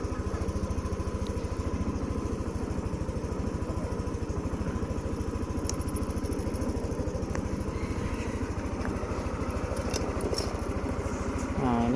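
A Yamaha NMAX Neo S scooter, five months old, idles steadily after starting, its engine putting out an even, close, continuous putter that holds for the whole stretch with no talk over it.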